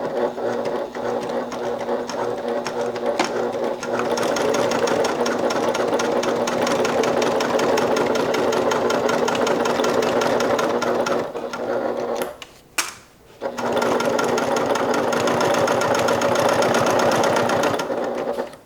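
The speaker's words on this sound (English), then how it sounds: "we're going to top stitch on both sides of the seam" Up close, a sewing machine top-stitches along both sides of an opened seam on a Willa crossbody bag, humming in a steady rapid run, pausing briefly near the end, then resuming.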